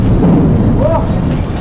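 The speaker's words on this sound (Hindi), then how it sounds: "बादल बहुत तेज गरज रहा है" Loud, deep rumbling thunder rolls through a rainstorm in a forest, a sustained low roar close by with rain beneath.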